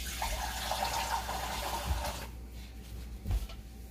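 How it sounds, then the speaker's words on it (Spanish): Water poured into a mix for a cornstarch and cookie dessert, a steady broadband rush for about two seconds that stops abruptly, leaving quieter kitchen sounds with a couple of small knocks. "Ahora le vamos a agregar agua"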